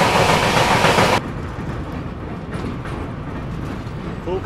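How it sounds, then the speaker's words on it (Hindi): A freight train roars past up close with loud, dense rumbling that cuts off abruptly after about a second, leaving quieter background noise, heard from the Indore–Daund Express in 2AC nearing Pune. "किसी ट्रेन से तो क्रॉसिंग हो रही है हमारी और बीच में मालगाड़ी आ गई।"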